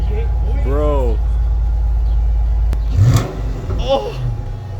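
Dodge Challenger SRT8 with the 6.1 engine, exhaust heard during a backyard wash as a low steady idle rumble with a sharp rev burst, while people talk nearby.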